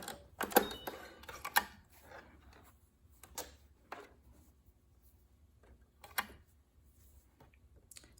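A sewing machine stitching down the side of a seam produces short mechanical whirring bursts and clicks, quiet and close, separated by pauses.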